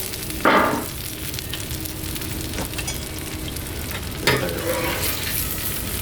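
Potatoes and vegetables frying on a Blackstone griddle outdoors in the rain, a steady close sizzle with two louder bursts of stirring and scraping, no talking.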